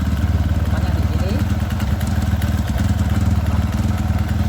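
A Kawasaki ZX motorcycle engine idles at a steady, rapid thrum with faint mechanical clatter, close and continuous throughout.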